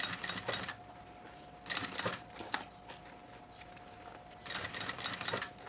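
A sewing machine stitches a seam on a synthetic fabric school pencil case in bursts of rapid mechanical whirring, three main runs separated by pauses, close and fairly quiet, with a steady faint tone underneath.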